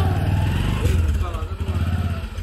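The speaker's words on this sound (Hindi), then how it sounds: "तो ये रही हमारी बाइक" A motorcycle engine idles close by in a steady, throbbing low rumble that swells slightly midway, then keeps chugging unevenly.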